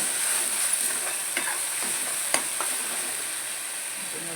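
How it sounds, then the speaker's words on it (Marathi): Masala spices roasting and sautéing in a hot pan give a steady hiss of frying, with occasional scrapes and taps from stirring, close up and unaccompanied by voices. "मसाला शिजून घ्यायचा चांगला चांगला भाजून घ्यायचा छान चांगला परतला"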